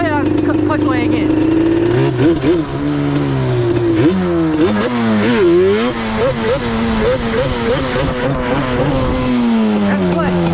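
Yamaha Banshee ATV engine revs hard and repeatedly during a clutch wheelie, loud rising and falling two-stroke wails that stay close throughout, with no talking.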